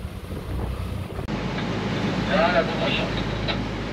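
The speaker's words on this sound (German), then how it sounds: "Das Ganze ist ein bisschen windig." Wind buffets the microphone in a constant rough rush over open water on a boat near Lelystad, with a brief voice-like sound rising partway through.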